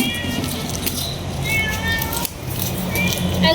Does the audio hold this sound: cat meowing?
yes